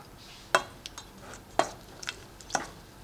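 A spoon scrapes and taps inside a small heated metal jar of melting chocolate, a few sharp clinks spaced about a second apart with softer scraping between, close and fairly quiet, no voices.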